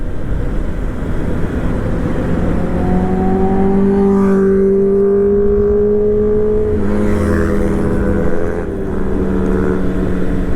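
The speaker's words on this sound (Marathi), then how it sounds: "स्पोर्ट्स बाईक कशा जाताना झुम झुम करत एकदम लय भारी ना." Sports bikes ride past on the Kasara ghat road, their engines rising and falling in pitch as they rev and pass close by, loud and continuous over steady wind and road noise.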